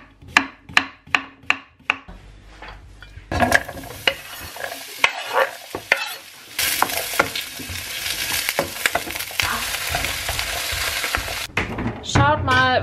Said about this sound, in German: Die werden wir auch noch anbraten mit den Zucchinis.